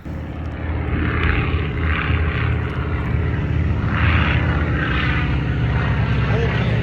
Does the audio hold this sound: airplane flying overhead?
yes